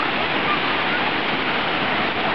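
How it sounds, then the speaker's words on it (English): A waterfall roars steadily and loudly at close range, a dense unbroken rush of falling water filling the whole clip with no break or change in level. "behind the waterfalls."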